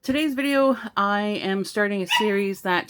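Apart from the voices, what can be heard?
small dog yipping in the background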